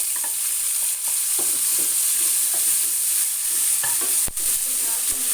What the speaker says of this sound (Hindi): इसको मैं चलाती रहूँगी ताकि ये मज़ीद ब्राउन ना हो